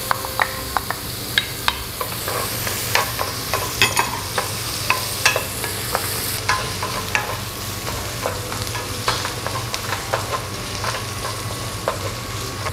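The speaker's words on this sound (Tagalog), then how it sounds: "So igisa lang natin yung ating onion." Onion sautéing in a hot pan with melted butter for a butter beef dish, a continuous close sizzle punctuated by regular sharp scrapes and taps of a spatula stirring.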